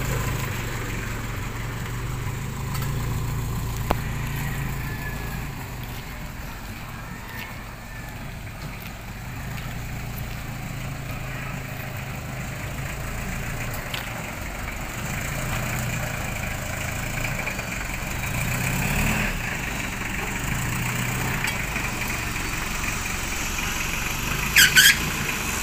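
A car engine idles steadily at a low, even rumble for the whole stretch, with a few faint clicks and small bumps but no talk.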